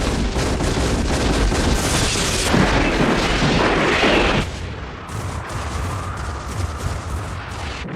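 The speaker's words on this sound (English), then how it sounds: "All units, open fire!" Weapons open fire in an anime mecha battle, a loud continuous barrage of booming blasts and rattling gunfire that drops abruptly partway through to a lower, rumbling volley, with no speech.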